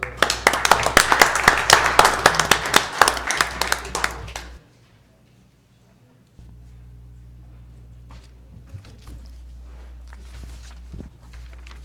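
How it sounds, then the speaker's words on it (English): A round of applause at a live-streamed public meeting after a proclamation, with dense hand clapping for about four seconds before it cuts off, followed by a quieter room with faint rustling and movement. "A round of applause for."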